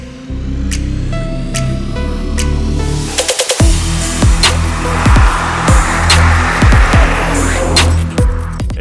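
Nissan GT-R Track Edition accelerating hard out of curves, its engine loud and close, pulling through the revs with a sharp gear change partway through and a series of rapid, punchy bursts after it.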